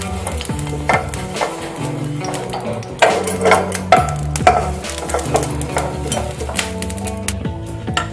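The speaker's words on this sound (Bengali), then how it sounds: "দিয়ে আমি ভালো করে এইভাবে চাড়িয়ে নিলাম তেলটা।" Refined oil sizzles in a pan while an eggplant stem is scraped around to spread it, giving steady frying hiss with repeated soft scraping strokes and light clinks, close and continuous.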